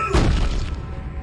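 Plasma cutter shots fire in Dead Space, giving one loud, booming discharge that fades into a low rumbling tail, with no talk over it.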